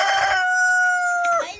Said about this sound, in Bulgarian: петел ни напада